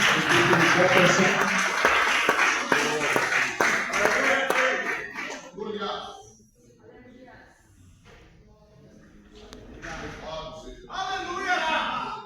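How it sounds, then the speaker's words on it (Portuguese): Congregation in a Portuguese-language church service clapping together, loud dense applause for the first half that fades into quieter room sounds, with scattered claps and voices returning near the end. "Você pode aplaudir o nome santo do Senhor Jesus."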